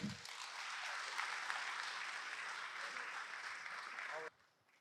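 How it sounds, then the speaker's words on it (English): Audience applause at a keynote event, a steady wash of clapping from a crowd that holds for several seconds and then cuts off abruptly near the end. "One more round of applause for the 38 Challenge and Brant."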